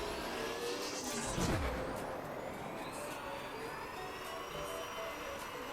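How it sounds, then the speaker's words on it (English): A video game racing car, the DS Survolt in Drive Syndicate, roars steadily while drifting, with a brief rising whine as it accelerates, loud and continuous, with no talking. "let's accelerate faster by drifting. But honestly, accelerating while drifting is a really cool feature"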